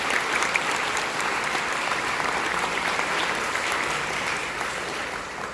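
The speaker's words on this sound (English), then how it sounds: "So a round of applause to these for getting the highest rating." A school concert audience applauds a 7th grade band, steady dense clapping filling the hall at a strong, even level throughout with no voices on top.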